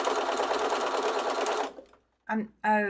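Close, rapid whir of a sewing machine stitching fabric pieces for a quilt, lasting under two seconds and then stopping, followed by short bursts of talking.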